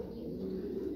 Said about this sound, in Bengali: আমার হাতে এখন যে কবুতরটা দেখতে পাচ্ছেন